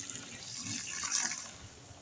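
A liter of water pours steadily into a container for mixing liquid soap, making a soft, faint, continuous splashing wash that lasts the whole moment with no voices.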